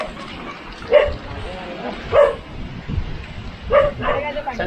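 Dogs barking in a village in Vangani, Maharashtra, heard from a trail on a ridge trek: four or five separate barks spaced a second or so apart, moderately close, over a background of people talking and moving.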